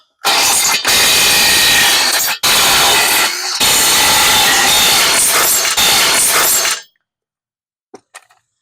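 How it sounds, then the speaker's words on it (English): A tool works loose the lug nuts on a trailer hub, giving loud, harsh, continuous whirring bursts broken by short pauses for several seconds. It then stops, leaving near silence with a couple of faint clicks. "So we just gotta remove these lug nuts."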